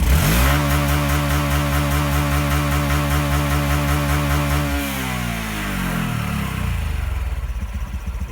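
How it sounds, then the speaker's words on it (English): A Trail125 motorcycle engine is revved hard with no load, holding a loud, buzzing high-rpm drone that bounces against the rev limiter, then drops away as the throttle closes and the engine settles back toward idle. "see if you guys can hear the rev limiter kick in."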